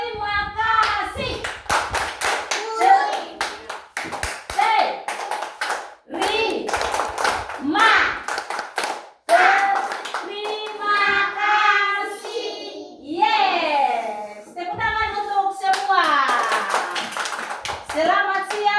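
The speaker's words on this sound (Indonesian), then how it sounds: "Kita akan bersama-sama melakukan tepuk terima kasih" Children clap together in a rhythmic thank-you clapping pattern, with sharp bursts of claps separated by pauses. Young voices chant and talk between and over the claps in a classroom-like setting.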